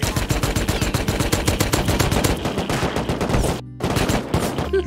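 Rapid automatic gunfire in the game Rust rattles loud and close in a dense continuous burst, breaks off for a brief silence, then resumes.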